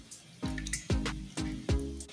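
Egg mixture pours from a bowl into an oiled steel vessel, heard as four separate wet glugging splashes spaced about half a second apart, each with a soft dripping tail, close and fairly quiet.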